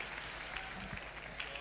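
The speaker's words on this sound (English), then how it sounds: "now this group, can we clap for them?" A church congregation claps for a group, a faint, even wash of clapping with a few low murmurs underneath.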